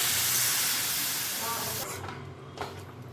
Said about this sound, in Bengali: এবার আমি এর মধ্যে দিয়ে দিচ্ছি সামান্য জল